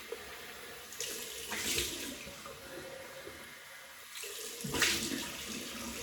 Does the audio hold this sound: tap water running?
yes